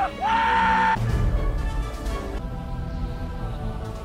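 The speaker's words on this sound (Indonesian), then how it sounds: "langsung berteriak sekencang-kencangnya" A man in the Titanic film lets out one loud, sustained yell of joy aboard a ship, lasting about a second, then fading into a murky background of ship ambience and music.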